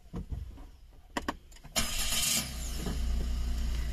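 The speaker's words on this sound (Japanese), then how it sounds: "今エンジンかけました" A few clicks and thumps, then the engine of a Suzuki Every Wagon DA17W van cranks and catches, settling into a steady idle close by.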